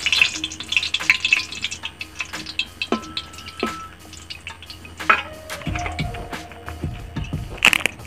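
Dried red chillies hit hot oil in a pan with a continuous sizzle and crackle, steady spattering and scattered pops, alongside occasional stirring and clinking close by.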